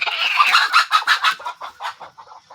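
Free-range country chickens on a poultry farm clucking in a busy run of rhythmic, overlapping calls, close and fairly loud, with no talking.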